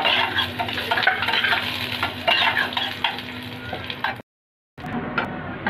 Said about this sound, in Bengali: আবার ঘি গরম হয়ে গেছে, আমি এখন কাজু আর কিশমিশগুলো হালকা ভেজে নেব।